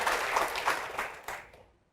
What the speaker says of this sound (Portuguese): Vamos aplaudir ao Senhor, vamos aplaudir mais então